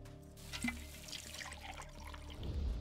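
Water poured in the post-apocalyptic game Wasteland 2: a faint, splashy trickle over a low steady hum, rising into a fuller gush near the end.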